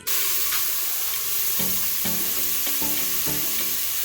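Seasoning frying in hot oil in a pot: a steady, close sizzle with several sharp crackling pops and stirring scrapes, and no talking.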